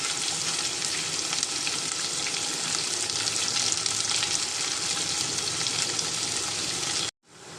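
Medium-sized chopped onion sizzles loudly in hot oil with garlic, a dense, steady frying hiss that carries on without pause before cutting off abruptly near the end.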